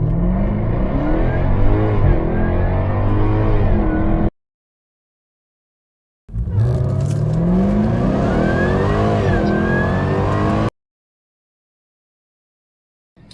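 A tuned Range Rover SVR fitted with a cold air intake launching hard from 0 to 60, its engine revving loud and close through rising gear pulls in two long runs separated by silence.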